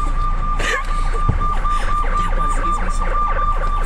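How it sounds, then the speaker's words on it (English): Emergency vehicle sirens wail steadily through a campus setting, a sustained tone holding under the street noise for the whole stretch at a fairly loud, close level. "probably waiting for the sirens to go away"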